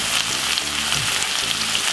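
Saltfish fries in a pan with vegetables, a loud, dense, close sizzle hissing steadily with soft scraping and stirring underneath throughout.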